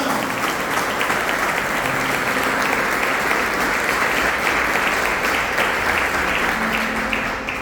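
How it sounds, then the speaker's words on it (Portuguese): A church congregation applauding during a sermon, dense, continuous clapping at full strength, close and loud, with no voice on top, tapering slightly at the very end. "Se você crê, aplaude Ele aí."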